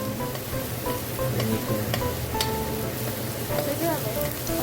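Onion sizzles steadily in a pan for pork binagoongan, a continuous close frying hiss with occasional stirring clinks throughout.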